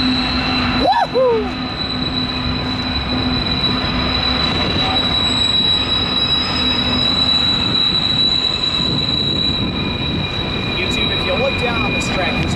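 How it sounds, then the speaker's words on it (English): A freight train rumbles past close by at Tehachapi, its wheels letting out sustained high metallic squeals over the constant roar of the cars. "This train's behind me."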